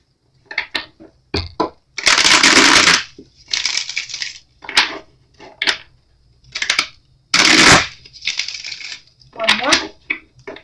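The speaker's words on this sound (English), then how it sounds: "Let me just do a quick shuffle." Repeated bursts of cards being shuffled and riffled, loud crisp rushes separated by short pauses and lighter tapping.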